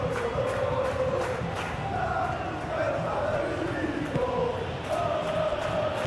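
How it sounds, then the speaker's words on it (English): Stadium crowd in the PES 21 football game during a Celta Vigo versus Real Madrid match, a steady roar with rising chant-like swells and whistles running throughout under a commentator's voice. "the crowd are reacting to that now"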